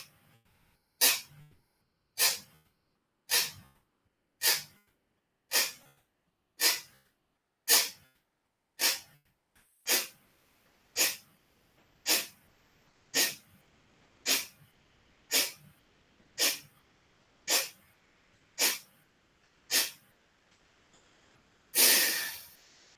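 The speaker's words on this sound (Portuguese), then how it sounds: "Primeira etapa, 20 exalações fortes" Twenty or so sharp, forceful nasal exhalations in a steady rhythm during a yoga cleansing breath exercise, each a loud close burst with quiet inhales between, ending in one longer, heavier rush of breath.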